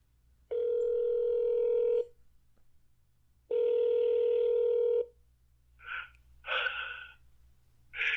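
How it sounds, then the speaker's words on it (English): Telephone call to a phone number heard through the handset: two long ringback tones with a gap between them, then fainter muffled voice-like bursts close by. "So I'm going to call the phone number."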